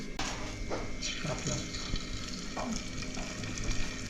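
Fish coated in rice flour seasoned with salt and chilli powder deep-frying in hot oil, a dense continuous sizzle close by with occasional spatters and faint clinks.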